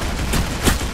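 Gunfire from a round of the Roblox shooter Arsenal, a short burst of loud, close shots spread across about a second, with a stronger blast near the end.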